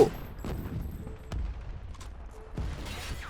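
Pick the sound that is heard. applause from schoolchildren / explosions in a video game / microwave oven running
explosions in a video game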